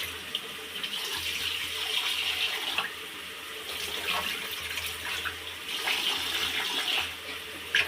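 Rice being rinsed in water at a kitchen sink with the tap running, a steady close splashing and trickling flow throughout with small swells of sloshing.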